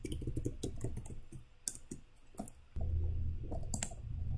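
Password being typed on a computer keyboard: a quick run of close, light key clicks in an uneven rhythm, pausing briefly before a steadier low hum comes in under a few final taps.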